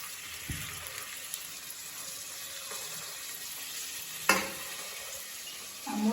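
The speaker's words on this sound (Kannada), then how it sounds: "ಟೊಮೊಟೊ ಸ್ವಲ್ಪ ಫ್ರೈ ಆಗಬೇಕು" Tomatoes fry in a pan with browned onions for mushroom biryani, giving a soft, steady sizzle with occasional spoon scrapes and one sharp clink of utensil against pan. No one speaks.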